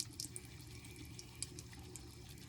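Makeup tool being rinsed under a running tap at a sink, a steady low wash of water flowing continuously with small splashy clicks on top, close and fairly quiet, no talking.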